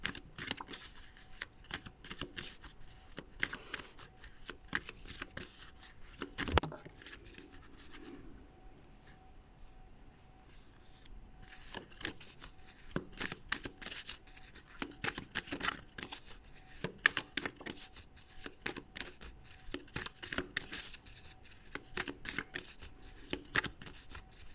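Oracle cards being shuffled by hand: a long, quiet run of dense papery flicks and riffles, close up, with a brief softer pause around the middle and no talking.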